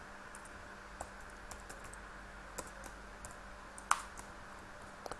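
Typing on a computer keyboard, sparse close key clicks with one sharper tap, over a steady quiet room hum.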